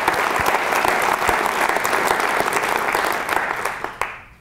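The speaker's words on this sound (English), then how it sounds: "how about a round of applause for all of those fantastic public service personnel" Sustained, dense audience applause at a U.S. Senate Energy and Natural Resources Committee field hearing on Colorado wildfire, held fairly loud and steady for about four seconds before tapering off quickly at the end.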